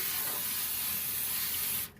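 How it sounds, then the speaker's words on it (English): A steady aerosol spray hisses continuously onto a baking pan for nearly two seconds, close and fairly loud, then cuts off abruptly. "Spray this pan."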